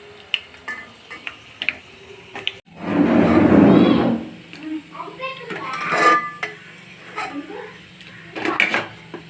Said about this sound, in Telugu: ఇప్పుడు వీటిని ఇంకొక బౌల్లో షిఫ్ట్ చేసుకుందాం